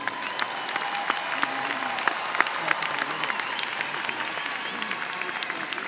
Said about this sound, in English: let's give a round of applause to the governor of the great state of New Jersey, Phil Murphy